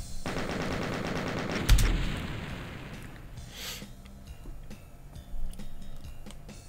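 Shotgun blasts and heavy gunfire in the video game Doom II, a dense rapid volley of loud shots up front that peaks in a sharp burst, then trails off into quieter scattered game sounds and a later thump.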